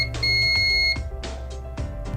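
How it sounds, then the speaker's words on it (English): A BARSKA biometric safe registering a fingerprint: an electronic beep sounds once, long and steady, then two short clicks or blips follow in quick succession. "you'll hear 1 long beep and 2 short beeps."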